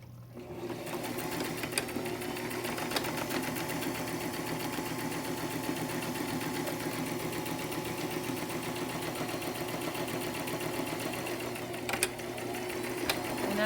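A sewing machine runs steadily through fabric for a long unbroken stretch, a close, even mechanical hum and rapid needle chatter with a few faint clicks, no voices.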